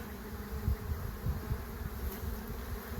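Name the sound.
honey bees buzzing from agitated hive colony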